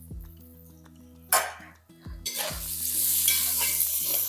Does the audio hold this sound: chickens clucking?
no